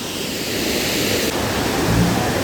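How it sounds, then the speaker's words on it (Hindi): Catherine waterfall near Coonoor in the Nilgiri mountains roars as a steady broad rush of falling water, heard from a distance with some wind across the microphone. "It's a Catherine waterfall"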